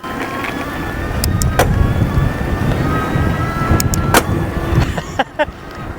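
A steady motor whine and road rumble with wind buffeting while riding a Vanpowers UrbanGlide Ultra e-bike, with a few sharp clicks toward the end.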